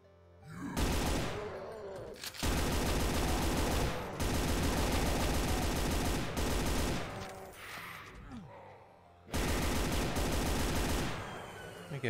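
A chain gun fires in Brutal Doom v21, Memento Mori 2 Map 24, in long, loud, continuous automatic bursts broken by short pauses, with no talking.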